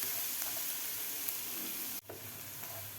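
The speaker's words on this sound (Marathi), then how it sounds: "लसूण आपल्याला थोडासा फ्राय करायचा, जास्त लाल नाही करायचा." Garlic fries in oil in a pan for a recipe of garlicky okra, making a constant close sizzle with a few stirring touches and a brief dip in the middle.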